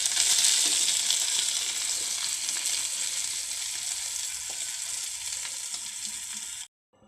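Egg-coated pointed gourd (potol) frying in a pan, a bright, dense, continuous sizzle with light stirring that fades slightly before stopping abruptly at the end.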